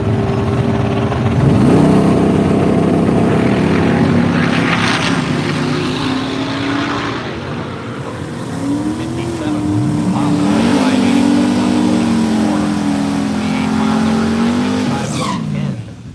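Drag race cars, including a 1966 Chevrolet El Camino, running the quarter mile at Woodburn Dragstrip, with loud engines roaring and rising in pitch through the gears against continuous crowd and track noise.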